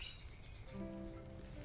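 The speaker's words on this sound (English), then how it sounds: "A small bird flying through the branches of the area." Small bird chirping in the fantasy role-playing game Baldur's Gate II, a few light tweets over a steady game ambience bed, moderately close and fairly quiet.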